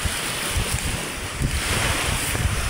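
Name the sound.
sea waves during a super typhoon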